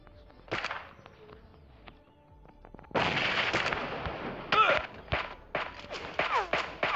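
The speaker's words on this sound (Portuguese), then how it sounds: "eu vou testar outra arma aqui pra mostrar pra vocês" Gunfire from a weapon being tested in the mobile video game PUBG Mobile: bursts of sharp shots, a short one early, then a dense run of loud repeated reports with brief gaps.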